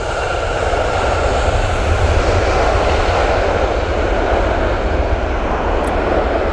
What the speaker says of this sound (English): As this Southwest flight lands